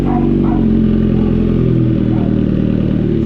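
A vehicle engine idles loud and close through a replacement exhaust pipe fitted in place of the removed muffler, giving a steady low, throaty drone with slight rhythmic pulsing throughout.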